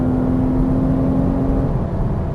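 A Porsche Cayman S engine pulls hard on track under throttle, a loud, close, steady drone of sustained acceleration with wind and road noise and no talk.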